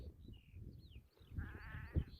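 Sheep bleat from a flock at moderate distance, a couple of calls rising over a low rustling background, with one louder bleat near the end.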